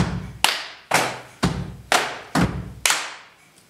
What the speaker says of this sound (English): Now we'll have another clap.